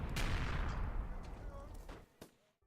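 War explosions and gunfire ring out in the trenches of a freeware horror video game. A heavy blast is followed by scattered, sharp reports and rumbling that fade toward quiet, mixed at moderate volume.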